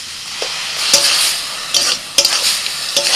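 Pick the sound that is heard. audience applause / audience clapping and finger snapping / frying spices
frying spices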